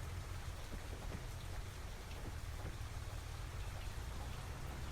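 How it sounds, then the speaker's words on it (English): Rain falls in the farming video game Farming Simulator 25. The downpour is a dense, continuous hiss of drops on the ground, steady and unbroken throughout, with no voices. "rain has started."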